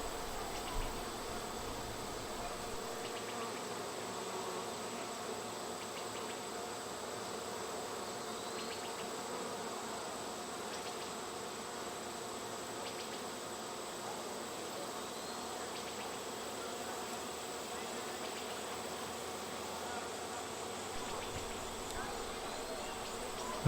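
Honey bees hum steadily at a hive during the 2017 total solar eclipse, a dense continuous insect buzz with a few faint bird chirps on top, no one speaking.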